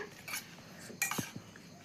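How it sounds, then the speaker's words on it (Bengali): A cooking pot for steamed pitha wrapped in jackfruit leaves is set onto a lit stove, giving a short cluster of quiet metallic clanks and clinks partway through, over soft room background. "হাঁড়িটা বয়াই দিলাম সিদ্ধ পিঠার লাগি"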